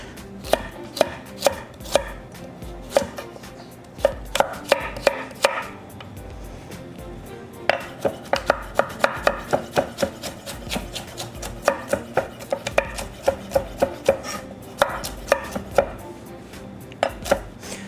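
A knife chops carrots by hand into a rough julienne on a board, in close, crisp bursts of rapid rhythmic strokes separated by short pauses, with no talking.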